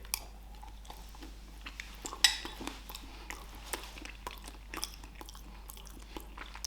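A fork scrapes and taps against a dish while cold homemade pasta with a bit of cheese is eaten, faint scattered clinks and soft chewing crunches in a quiet room with a low hum.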